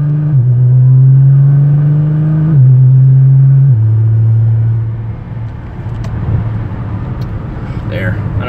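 A car on the road gives a loud, steady engine drone that shifts pitch in steps like gear changes, then settles into a rougher rumble of road and engine noise, with a voice talking over it.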